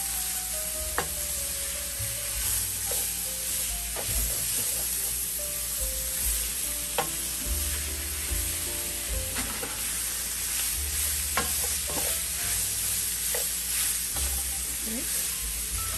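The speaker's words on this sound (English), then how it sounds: "Let's go ahead and start stirring that in." Crawfish and crab étouffée being stirred in a hot pan, a steady sizzle with frequent spoon scrapes and clinks against the pan over sixteen seconds, close and moderately loud.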